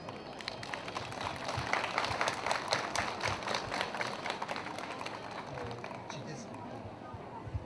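Crowd applause at a folk festival celebrating its 50th edition in Gura Teghii commune, a dense, steady outdoor clapping that swells and holds for several seconds, with murmuring voices mixed in.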